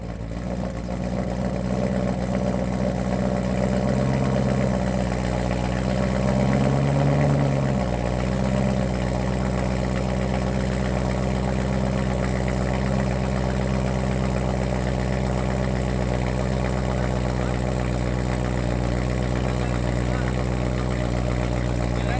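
A 2013 BMW E92 M3 with a six-speed manual and a Valvetronic exhaust idles with a loud, steady, deep drone, its pitch dipping briefly partway through before settling back into a constant rumble.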